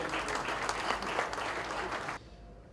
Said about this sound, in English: Ladies and gentlemen, a huge round of applause for him.